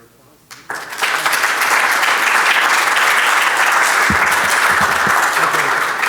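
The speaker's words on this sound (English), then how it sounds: "applause" Sustained applause from a seminar audience at the close of a session on bridge construction and erosion, rising after a quiet start and holding steady and dense throughout.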